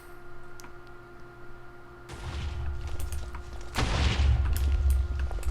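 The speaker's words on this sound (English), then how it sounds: "some cannons coming from BPF, trying to take out the staircase" Cannons firing in a Minecraft-style video game tournament match: two sudden heavy booms, the second louder with a lingering rumble, over a faint continuous background hum, with no voices.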